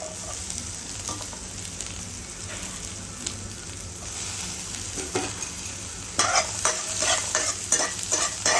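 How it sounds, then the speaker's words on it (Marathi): Chopped onion sautéing in a pan with curry leaves, a continuous close sizzle with frequent spatula stirs and scrapes that grow louder and busier in the last couple of seconds. "कांदा पण दोन ते तीन मिनिट परतून घेते"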